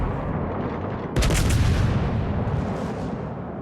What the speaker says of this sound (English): Now, of course, the fireworks, the secondaries are going off